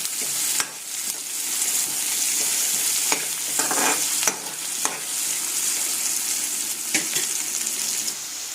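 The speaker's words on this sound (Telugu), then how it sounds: "ఆనియన్స్ అనేది బ్రౌన్ కలర్లోకి వచ్చేంతవరకు ఇలా వేయించుకోండి" Onions fry in a pan with spices for a vegetable biryani, giving a steady close sizzle broken by scraping stir strokes, with no voices.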